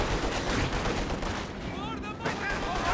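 Machine gun fire from a Company of Heroes 2 match, a dense, steady clatter of automatic bursts mixed with other battle noise at a loud level throughout, with a voice talking over it.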